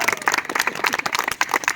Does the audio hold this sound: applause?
yes